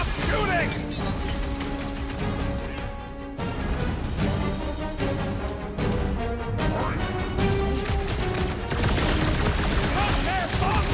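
Gunfire and crashes fill a firefight in the Guardians of the Galaxy video game, a dense, loud, continuous barrage mixed with game music and characters talking.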